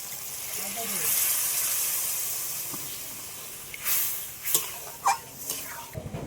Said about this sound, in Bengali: এইবার নারকেলের দুধটা দিয়ে দিচ্ছি